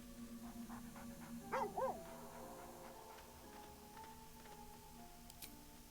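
A dog in a video game gives a couple of short whimpering whines over a quiet game backdrop, followed by a faint tonal hum and soft ticks.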